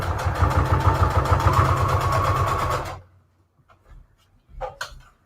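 A sewing machine runs a straight stitch through a layered junk journal collage, giving a fast, steady mechanical whir for about three seconds before stopping. Faint rustling of paper follows.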